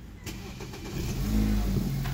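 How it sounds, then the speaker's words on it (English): A BMW F30 engine cranks and catches: a short start-up that swells into a steady, close, low idle rumble over about two seconds. "We're gonna start the car."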